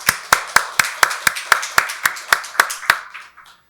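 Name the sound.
congregation clapping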